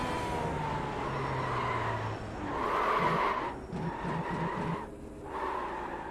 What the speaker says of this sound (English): this car is pretty loud